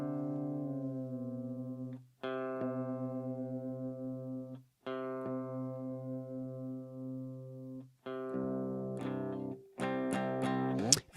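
An electric guitar being tuned, single plucked notes ringing out and sustaining with short gaps between them, then a quicker run of bright strums and picked notes at the end, played clean and close with no one talking.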